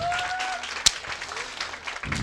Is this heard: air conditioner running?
no